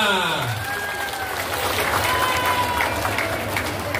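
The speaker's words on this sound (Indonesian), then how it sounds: "Kita berikan aplaus buat kita semua" Applause and cheering rise from an audience of several hundred at an economic heroes roadshow, steady clapping that fills the room with voices mixed in.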